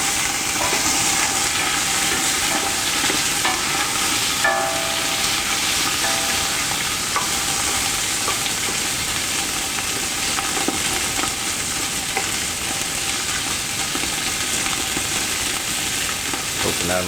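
Beef vegetable soup ingredients fry in hot grease in a pot and are stirred with a wooden spoon. A loud, continuous sizzle and hiss carries scattered soft scraping and knocking sounds, with no voices.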